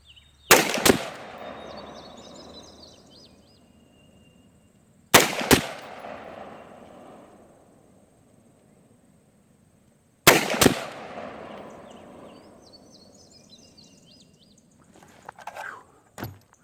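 Three loud single rifle shots at an outdoor range, spaced about five seconds apart, each with a sharp crack and a long echoing tail, with faint clinks and movement near the end.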